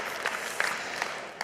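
An audience at a tech keynote gives a short burst of light, scattered clapping, heard at moderate distance with no talk.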